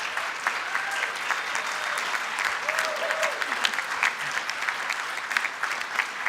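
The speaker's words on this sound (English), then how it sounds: "Please stand up and give all of those people a big round of applause." A large audience at a graduation ceremony for agriculture and environmental sciences applauds steadily, a dense, even wash of clapping that holds for several seconds with faint cheering mixed in.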